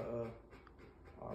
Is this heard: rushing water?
no